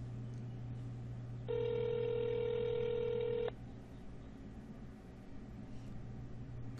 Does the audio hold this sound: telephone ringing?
yes